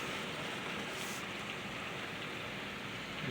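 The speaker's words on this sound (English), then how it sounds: "there's quite a lot of hail that's coming down here now" Hail pours down in a monsoon storm, a constant dense hiss of countless small impacts spread evenly throughout, fairly faint and distant, with no talking.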